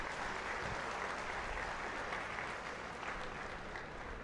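Audience applause fills a hall at a Telangana BJP state executive party meeting, with dense continuous clapping from a large crowd throughout the short stretch and no talk over it.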